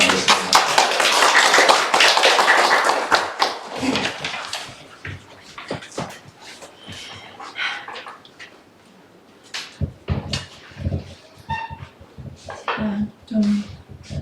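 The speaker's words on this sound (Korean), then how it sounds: "일단은 박수로 환영하겠습니다." A church congregation applauds to welcome two speakers: loud, thick clapping for about four seconds fades out, followed by scattered small knocks and a person talking.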